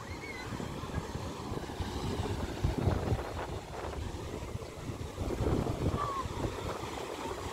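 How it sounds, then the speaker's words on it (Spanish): Waves break on the beach at Galveston, Texas, in a continuous wash of surf mixed with gusty wind buffeting the microphone, with a few faint distant voices in the background. "Para que vean cómo está el ambiente. Acá en la playa de Galveston."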